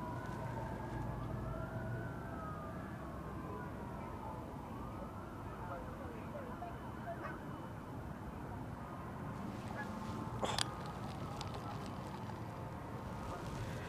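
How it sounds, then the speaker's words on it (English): Faint emergency sirens wail far off across the River Trent in Nottinghamshire, their rising and falling tones drifting under a steady rush of wind and outdoor ambience on a riverbank during a morning fishing trip. "Lots of sirens this morning in Nottinghamshire."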